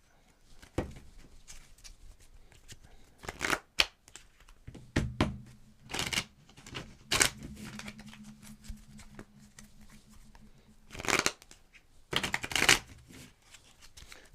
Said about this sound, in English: Let us just mix and match the cards together.